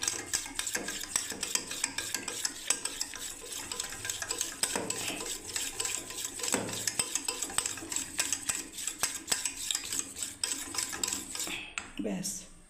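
Batter for bora fritters being whisked and beaten in a bowl, a dense run of rapid clinking, scraping strokes that carry on steadily and close up for the whole stretch, with no talking.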